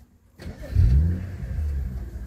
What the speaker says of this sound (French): Là on a le petit bruit feutré derrière.